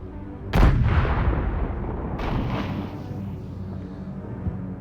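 A single loud cannon blast from a ship in a sailing video game booms close by, then a second, softer burst follows about two seconds later amid lingering rumble.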